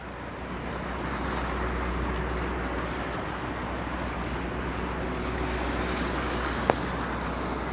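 Steady wind gusting and buffeting the microphone while blowing snow during a walk through Toronto in the season's first snowfall, a continuous broadband rush with one brief faint tick near the end.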